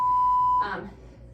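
A workout interval timer gives one steady electronic beep lasting about half a second, loud and clean, followed by a brief fading tail in a quiet room.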